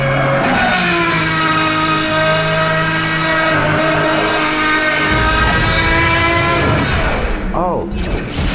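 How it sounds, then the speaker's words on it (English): A loud, high-revving engine drones continuously with shifting pitch, a racing car in Need for Speed Hot Pursuit Remastered, ending with a brief rising whoosh. "one loud car, mate."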